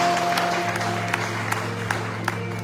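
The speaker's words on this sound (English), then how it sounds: "please give them a round of applause." Applause from a satsang audience in Durban, South Africa, a short steady patter of clapping with a few sharper claps standing out, fairly faint in a hall with a low hum beneath.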